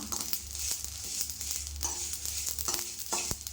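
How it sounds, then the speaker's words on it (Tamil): Mustard seeds and fenugreek spluttering in hot oil, a steady close sizzle broken by sharp popping crackles throughout, with no talking. "கடுகு வெந்தயம்லாம் பொரிஞ்சு வருது"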